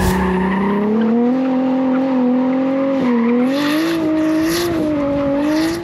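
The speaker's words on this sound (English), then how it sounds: "you can't get that really hard initiation with getting that car sideways like that" A drift car with an inline-six RB25 engine and GTX3071 top-mount turbo is held sideways, its engine droning loudly and steadily while tires squeal and skid continuously, close and alone.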